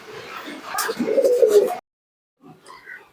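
A teddy pigeon coos close by, a low throaty burble lasting under two seconds, then a pause before a fainter stir of movement at the end.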